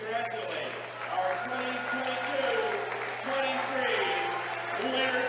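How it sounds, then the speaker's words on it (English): Crowd applause at a high school basketball game honouring seniors, a steady moderate wash of clapping in a gym while an announcer's voice and a faint hum continue over it. "Ladies and gentlemen, a round of applause as we congratulate our"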